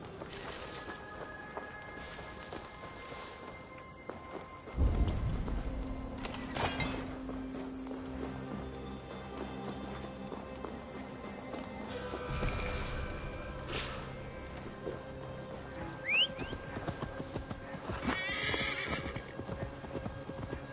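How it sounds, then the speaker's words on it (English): Horse hooves clip-clop steadily while a horse neighs and whinnies now and then in Assassin's Creed Valhalla, with a soft game ambient bed underneath. "Now to deliver Magni his horse."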